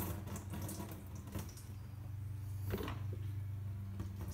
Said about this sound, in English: See, the oil is just going to be draining out.